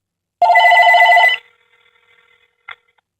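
Close, loud electronic ring from a Straight Talk home phone for about a second, then near silence and a short faint click.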